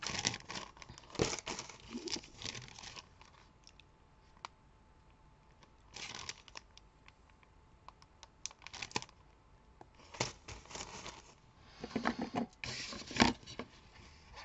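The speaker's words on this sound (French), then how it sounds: "Alors désolé pour le bruit de la poche." Crinkling plastic bag rustled by hand while crafting a quick paper card, irregular crisp bursts of crackle separated by quieter pauses, close up with no talking.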